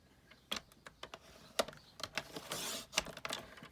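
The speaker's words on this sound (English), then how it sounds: "put it in the paper trimmer." A paper trimmer cuts a strip of paper: a run of light plastic clicks and taps, then a brief sliding rasp of the blade, more clicks after, quiet and close with no talking.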